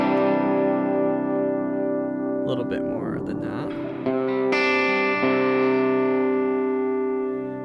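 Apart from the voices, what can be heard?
Chase Bliss Lost and Found pedal with mild reverb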